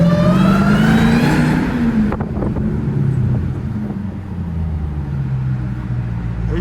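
707hp Jeep Trackhawk accelerating through city traffic, its supercharger whine rising in pitch over a loud engine roar, then cutting off as the car shifts, with wind buffeting in the background.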